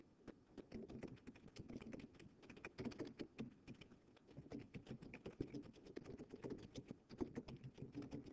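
Fast, steady typing on a computer keyboard, dense clattering keystrokes running continuously at close range with no talking.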